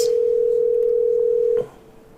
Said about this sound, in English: I'm going to go ahead and call this number really quick out of the web conference